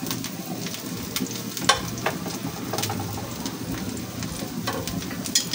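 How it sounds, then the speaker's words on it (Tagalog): Eggplant frying in a reduced amount of oil, a dense crackling sizzle with scattered pops and occasional louder spatters, close and continuous. "Okay lang po yan dahil pe-fried lang po natin yung ating talong."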